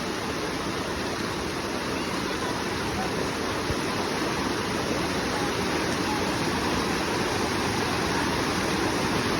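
Mountain river in the Himalayan hills near Kedarnath rushes steadily while a woman wades across on foot, a loud, continuous broadband roar of flowing water filling the whole scene without letup.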